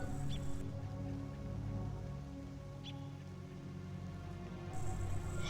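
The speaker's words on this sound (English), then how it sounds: "So we're just in the forest with the rain." Soft, steady patter of rain in a quiet video game forest, faint and continuous, with a couple of small ticks and drips.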